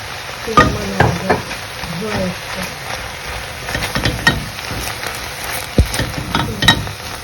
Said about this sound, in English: we go ahead and add a little bit of olive oil to shine it out